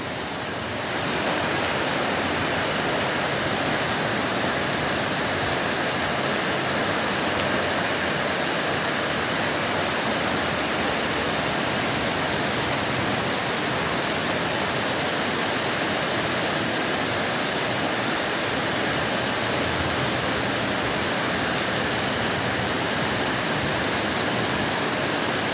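Torrential rain pours down in a steady, dense roar on an avenue, about 130 litres per square metre in an hour, loud and unbroken throughout with no voices.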